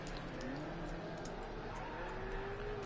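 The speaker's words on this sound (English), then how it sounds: "Once again, the BMW squealing the tires." A BMW GT3 race car at the Nürburgring in a racing video game, a close engine drone with a rising squeal of tires through a corner, continuous and fairly loud throughout.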